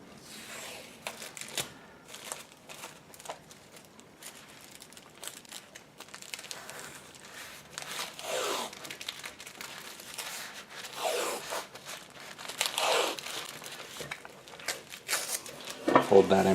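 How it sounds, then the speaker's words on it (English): Tape is pulled and wrapped around bunched fabric for tie dye, giving close, soft crinkling and peeling rasps that come in irregular bursts and grow louder toward the end, with a faint voice briefly in the background. "And then I'm going to run some tape around this."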